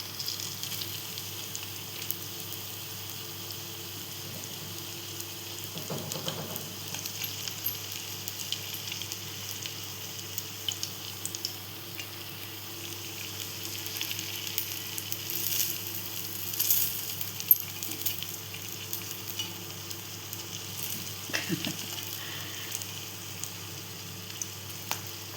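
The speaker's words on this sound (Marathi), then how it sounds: "इथे आता आपण फ्राय करून घेतलेत" Potato and poha cutlets fry in a pan, giving a steady, soft sizzle throughout with faint crackles and a few brief utensil clatters, no voices.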